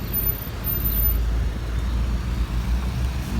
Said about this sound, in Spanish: Vamos a mover el carro para acá, para la sombra